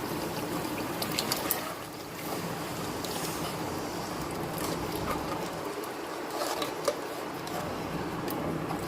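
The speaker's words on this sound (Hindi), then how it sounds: "1 गिलास पानी का इसमें डालेंगे" A glass of water pours steadily into a pot of mutton nihari with a continuous trickling, splashing rush, close and moderately loud, lasting several seconds.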